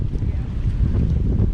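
Wind blows steadily outdoors at a lakeside RV campground on a stormy afternoon, a dense, continuous low rumble of gusts buffeting the microphone.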